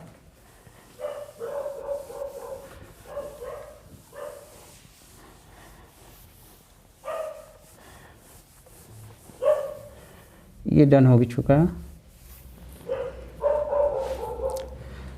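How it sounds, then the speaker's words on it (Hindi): Dogs barking outdoors at night, a few scattered barks and yips with one louder burst, sounding distant behind a voice speaking Hindi. "यहाँ पे कुत्ते भौंक रहे हैं"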